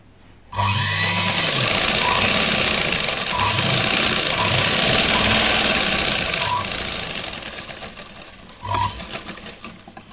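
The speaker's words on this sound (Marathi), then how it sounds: "अर्धा इंचाचे अंतर ठेवून टीप मारून घ्यायची" Electric sewing machine sewing lining onto a katori blouse sleeve, a loud, close run of fast rhythmic stitching lasting several seconds before slowing and stopping with a short final burst.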